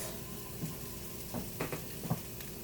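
Vegetables seasoned with salt and pepper sizzle softly in a pan for a kale and cauliflower salad, the low frying hiss broken by a few light stirring scrapes near the end.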